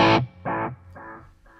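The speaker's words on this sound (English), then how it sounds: "a big delay. I think it's like an echo delay" An electric guitar runs through a Line 6 Pod HD500 with heavy distortion and a big echo delay: a loud distorted chord repeats three times, each echo fainter than the last.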